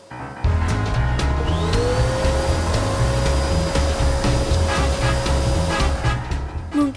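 A cartoon vacuum cleaner runs loud and steady throughout, with a rising whine settling into a sustained hum over a heavy droning motor, alongside scattered clatter.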